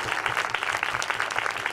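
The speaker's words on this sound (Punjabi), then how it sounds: "ਤਾਲੀ ਵਜਾ ਯਿਸੂ ਕੇ ਨਾਮ ਸੇ।" A congregation claps hands at a Christian village prayer gathering in Dhina, a dense, steady, rhythmic patter of many hands filling the room.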